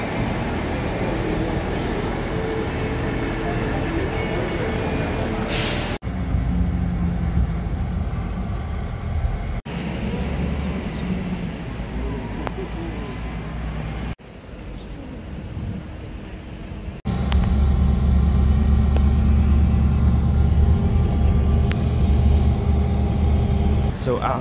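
Interior of an intercity bus traveling from Podgorica to Tirana, a continuous low engine rumble and road noise, shifting in level between cuts with a louder drone near the end.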